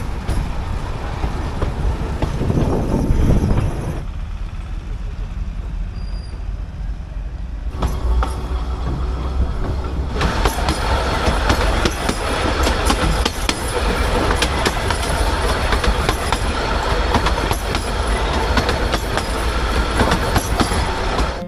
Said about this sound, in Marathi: आता ट्रेन सुटली आहे, परत पुढे जाणार